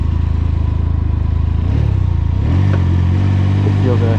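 Engine of a 2021 Can-Am Ryker three-wheeler as the clutch engages, a loud close rhythmic idle that deepens into a heavier pulling drone as the machine moves off, with a voice briefly heard over it.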